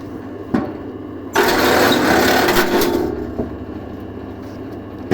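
A homemade T-Rex Mini log splitter runs with a steady, loud engine drone that kicks in after a sharp knock, holds for a couple of seconds, then eases to a lower hum with a few clicks.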